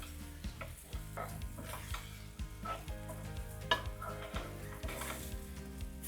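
Mashed brown onions fry with salt, chili and garam masala for an egg fried rice biryani, giving a loud steady sizzle broken by repeated scraping stirs and a few metal clinks of the pan, with no voices.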